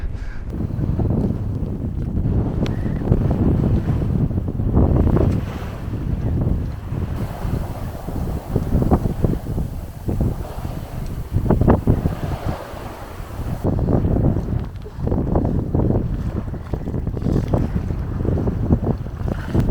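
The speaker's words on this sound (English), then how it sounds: "A little slower than having the engine, of course, but we are sailing now." Strong wind buffeting the microphone with water rushing and splashing against a hull as a sailboat moves along under sail near Hals lighthouse, Denmark, steady and loud throughout.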